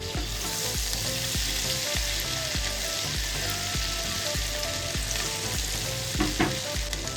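Ginger, chili and garlic paste sizzles steadily in melted butter and oil, a close, continuous fry with a run of soft thumping stirs and scrapes.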